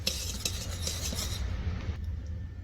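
A utensil stirs dry ingredients of cinnamon, salt and baking soda in a bowl, giving soft repeated scraping and light clinks close by, then falling quiet.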